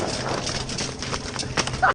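A horse's hooves clip-clop in a steady rhythm during a roadside run-in with a motorcyclist, heard under a dense layer of background noise and ending in a brief louder thump.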